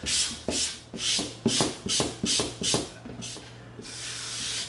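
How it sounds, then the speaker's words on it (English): Rhythmic scratchy rasping strokes of a 320-grit sanding stick on EVA foam, about eight quick passes close to the microphone, then a steadier longer rub. "let's come in with our 320 sanding stick and let's just smooth it just a little bit."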